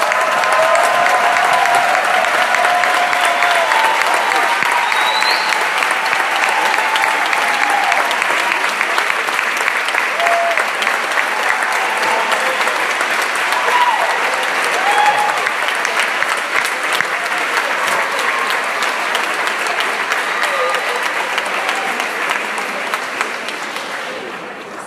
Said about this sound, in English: would please stand so we can give them one huge round of applause